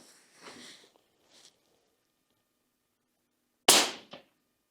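A single sharp rifle shot from a Hornady 22 Creedmoor cracks out after near silence, loud and abrupt with a short decay, preceded by faint indistinct noises.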